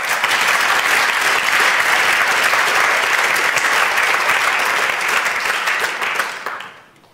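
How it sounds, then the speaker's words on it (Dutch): Loud, full applause from an audience at a city talk event on Amsterdam craftsmanship, sustained and even before fading out quickly in the final second. "Een applaus."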